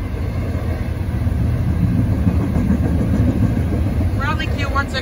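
CSX Q161 intermodal freight train passing at speed through a road crossing in Bergen, New York, a loud continuous low rumble and rolling rattle of container cars close by, with a voice speaking over it near the end.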